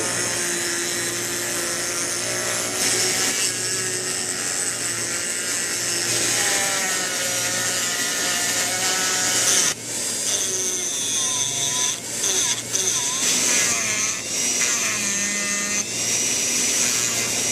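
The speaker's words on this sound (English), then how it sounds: "Now it's time to start grinding out the actual scales." A Dremel rotary tool grinds G10 knife scales for a Kershaw Compound with a continuous high-pitched whine that stays steady and close, dipping briefly in pitch under load, and no voices.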